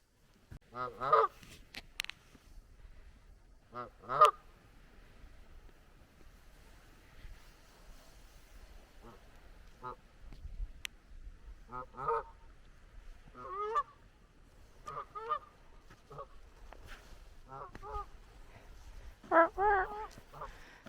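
Goose honking outdoors at a lakeside fort in the off season, repeated loud nasal honks in irregular bursts, some near and some farther, over soft wind and surf.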